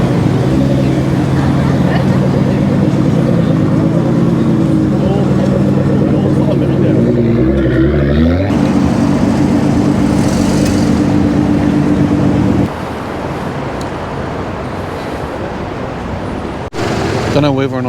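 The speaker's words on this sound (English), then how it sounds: "They must be racing cars." Racing cars idle and rev at a Daikoku parking area, a loud deep engine drone with rising and falling revs, one car pulling away as the rumble shifts, under casual talk.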